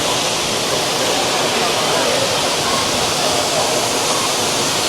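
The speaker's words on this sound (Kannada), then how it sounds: "ಅಲ್ಲಿಂದ ವಾಟರ್ ಫಾಲ್ ಬೀಳ್ತಾ ಇದೆ" Soochipara Falls in Wayanad, a waterfall reached after a forest walk, roars as a steady, loud, dense rush of falling water that fills the whole clip without a break.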